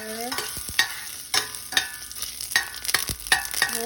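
Ginger goes into hot oil in a pan for sautéed bitter melon, giving a sizzle under sharp, repeated stirring and scraping clatter, close and fairly loud with no voices.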